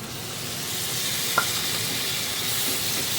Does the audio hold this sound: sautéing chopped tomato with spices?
yes